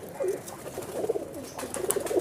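Teddy Golden Kamager high-flying pigeon coos softly in low, throaty pulses, a few murmuring calls close by in a quiet breeding setup.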